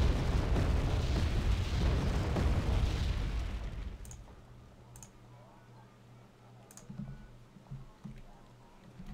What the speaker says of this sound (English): Okay, rockets are away.